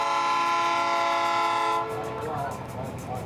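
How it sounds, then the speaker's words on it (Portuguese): A train on railway track beside the Bicycle Memorial in Joinville sounds a long, loud, steady horn, then its wheels rumble and clatter rhythmically as the cars pass close by. "O Memorial da Bicicleta de Joinville fica ao lado do trilho do trem. E enquanto ele passa"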